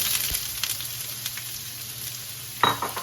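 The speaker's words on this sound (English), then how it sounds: "you should hear them sizzle when you hit the pan" Onions sizzling as they hit an oiled frying pan on medium-high heat for chicken fajitas, a steady crackling hiss with a sharper burst near the end, no voices.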